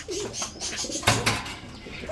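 Pigeons kept in pairs for sale coo softly nearby, with low, rolling calls and a sharp knock or flutter partway through, and no voices.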